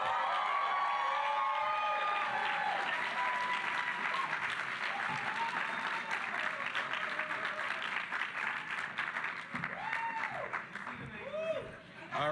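Loud, sustained applause from a large audience at a Black poetry festival reading, welcoming the first featured poet with dense clapping and scattered cheers and whoops throughout.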